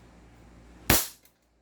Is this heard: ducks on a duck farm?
no